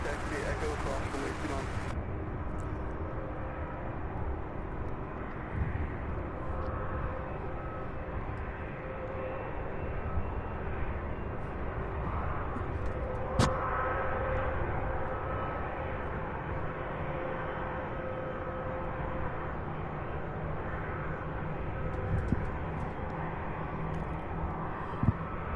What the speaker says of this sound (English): let's see what we've got remaining here while we wait on this MD-11 to finally turn